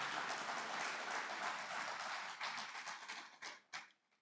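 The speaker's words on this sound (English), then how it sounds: "Can we clap for Nigerian women?" Audience applause at a Democracy Day public lecture, a dense wash of clapping that thins into scattered individual claps as it fades out.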